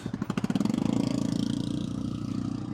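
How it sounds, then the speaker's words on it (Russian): Motorcycle and moped engines on a hot road, heard from a rider waiting on a helmet-mounted camera; a rapid pulsing engine note swells loudly and then steadies into a buzzing drone as they pass close by. "Сейчас пропустим мотоцикл"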